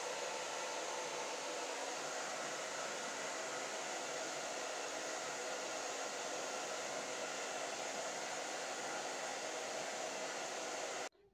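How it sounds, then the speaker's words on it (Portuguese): A hair dryer drying hair after a keratin-style hair sealing treatment blows in one loud, continuous, unbroken rush close by, then cuts off abruptly at the end. "Agora eu vou secar aqui o meu cabelo totalmente"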